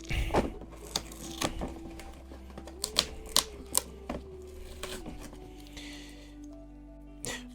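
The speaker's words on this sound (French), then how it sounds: "Pour l'installer, on enlève ce petit bout de scotch par ici." Sharp crackling and ripping bursts of adhesive tape being peeled off a home cinema seat, several quick tears over a steady low hum, fairly close and moderately loud.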